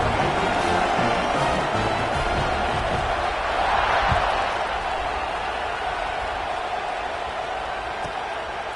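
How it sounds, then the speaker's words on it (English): Stadium crowd noise in the College Football 26 video game, a steady loud roar of cheering fans at kickoff that swells slightly midway, with broadcast commentary over it. "this crowd now ready to get behind them"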